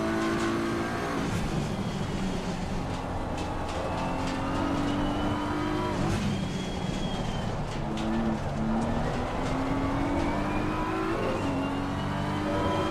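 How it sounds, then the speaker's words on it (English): BMW race car in an Assetto Corsa Competizione race at Kyalami or the Nürburgring, its engine droning steadily with rising and falling revs and gear changes, loud and continuous throughout without talk. "That BMW sounding saucy."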